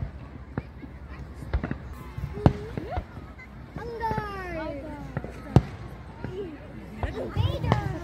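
Fireworks go off at a distance during a night display: scattered pops and thuds, plus whistling shells that rise and fall, under near and constant talk and background chatter.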